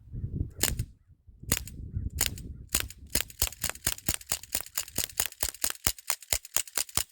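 A CO2-powered air gun, a Sig Sauer MPX .177 or a Crosman DPMS Panther SBR, fires at a target: a few spaced sharp cracks, then a quick steady string of close, snappy shots.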